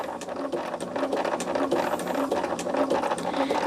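Sewing machine running steadily while stitching a zigzag or satin finishing edge along fabric, a continuous close mechanical whir with rapid ticking needle rhythm and no talk.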